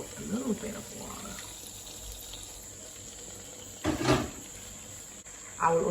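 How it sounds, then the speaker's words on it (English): Water splashes briefly into a pan of potatoes and sweet potatoes, with a short pour midway and another at the end over a quiet kitchen background. "We'll also add in about a little bit of water."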